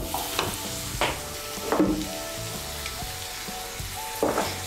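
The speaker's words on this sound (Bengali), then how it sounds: "মশলাটাকে ভালো করে কষিয়ে নেব" Turmeric and spice paste with a little water sautéing in a pan, a soft continuous sizzle broken by several scraping stirs of a spatula at irregular intervals.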